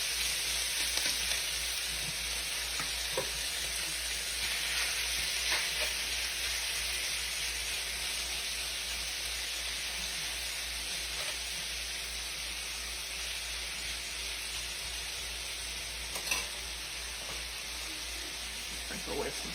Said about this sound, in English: We want just a little sizzle when we put it in there.